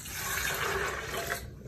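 Coconut water pours into a blender in one steady, splashing gush that sounds close and moderately loud, tapering off after about a second and a half.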